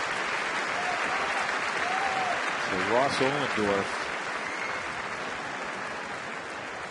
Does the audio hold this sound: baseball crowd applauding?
yes